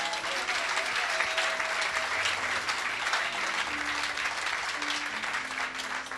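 A church congregation applauding during a testimony service, dense sustained clapping throughout, loud and even, with faint voices mixed in.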